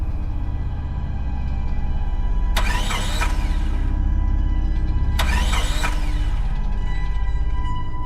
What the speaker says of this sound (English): I turned the key and my heart sank as the engine failed to start.